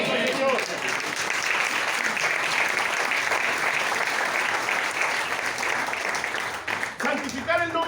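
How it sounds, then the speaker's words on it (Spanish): A church congregation at a Sunday service applauds in a sustained, fairly distant burst of clapping that thins near the end, with faint voices mixed in. "Dale un aplauso al Señor."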